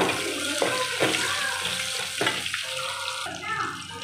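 Chopped onion dropped into hot oil with cumin and peanuts for quick khichdi, giving a steady broadband sizzle with a few sharper bursts as pieces hit the pan, continuous and fairly close.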